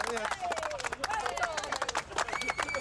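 A small crowd clapping to welcome a man home after a long 500-mile march, with steady, close applause and cheering voices talking over it throughout.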